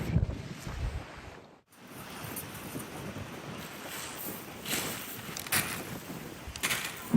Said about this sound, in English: Oh, it's so windy out